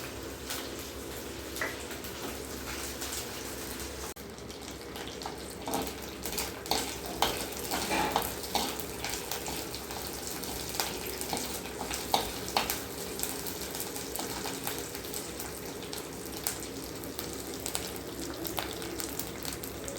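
Neem flowers and curry leaves sautéing in hot oil in a pan, a continuous soft sizzle with occasional stirring scrapes and clinks, fairly quiet and steady throughout.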